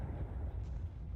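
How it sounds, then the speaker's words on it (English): A distant naval explosion in the War Thunder battleship game gives a brief dull, low boom that rumbles for about a second with no talk over it. "It was a flash explosion."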